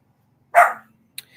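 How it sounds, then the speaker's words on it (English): Puppy gives a single sharp bark nearby, followed by a faint short yip, with near silence around them. "so that noise from the construction got the puppies barking"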